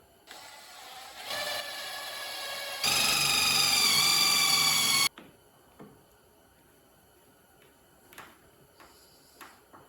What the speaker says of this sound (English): I'm going to use a 5/32 drill bit